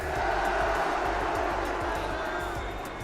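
A large arena crowd at a Fortnite FNCS Global Championships event roars in a continuous, loud wash of mass voices that holds steady before easing slightly, with no clear individual speech standing out.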